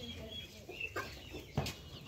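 A male domestic turkey on a farm gives a few short, clucking calls, two brief bursts standing out against steady background noise.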